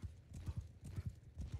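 Rapid hoofbeats from a galloping horse in the medieval combat game Bannerlord Online, a quick rhythmic clip-clop that repeats steadily through a short battle moment.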